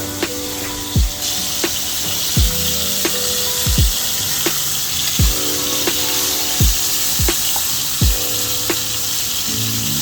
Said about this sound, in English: I have a pan here with oil in a high heat. I'm gonna lay this right on there.